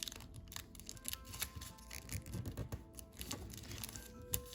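Origami paper being folded and creased for a deluxe dragon model, giving a busy run of close crinkling, rustling and sharp paper snaps throughout, with no talk.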